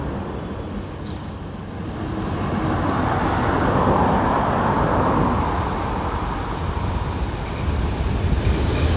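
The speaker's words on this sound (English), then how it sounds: "There comes a truck with golf carts on it." A truck hauling golf carts on a trailer passes on a road in a retirement community, a broad rumbling roar that swells to a peak mid-clip and slowly eases, steady and moderately loud.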